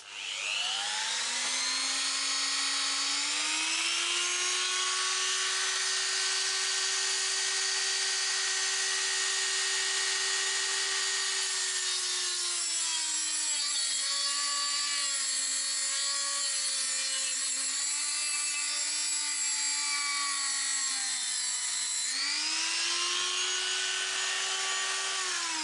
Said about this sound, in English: So my roll pins are a bit long, so good old Woolies Dremel to the rescue.